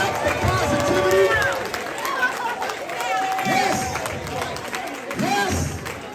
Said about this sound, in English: Clap it up for black excellence.